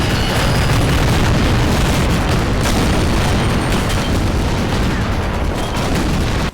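Relentless barrage of explosions, rocket blasts and machine-gun fire from the video game Gatling Gears, with enemy homing missiles and artillery booming constantly in a loud, unbroken roar of overlapping impacts.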